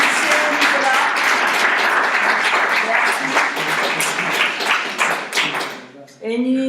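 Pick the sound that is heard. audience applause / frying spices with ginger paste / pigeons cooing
audience applause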